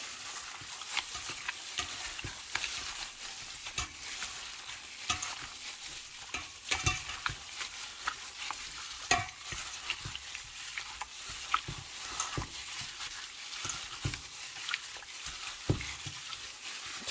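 Kilayin meat being massaged with patis, a Kapampangan dish: soft, wet squishing and slapping in irregular bursts, fairly faint and close, with no talking.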